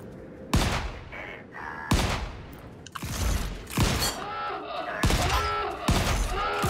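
Gunfire in the survival game Volcanoids: four or five loud, sharp shots at roughly one-second intervals, each with a booming tail and ringing echo, heard alone without talk.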